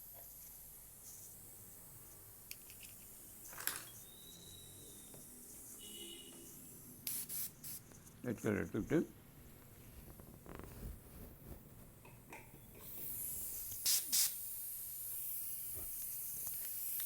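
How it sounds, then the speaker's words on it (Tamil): Short, quiet hissing bursts of spray paint on the body of a goddess figure come and go, with a person speaking softly between them. "லேசாக ஸ்ப்ரே வச்சு பார்க்கணும்"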